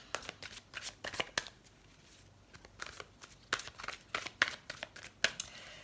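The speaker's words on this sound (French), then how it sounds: "on va tirer quelques cartes de l'oracle euh, des anges de l'amour" Oracle cards from an angels of love deck being shuffled by hand, a run of quick crisp riffling bursts and flicks with short pauses between, close and clear with no talking.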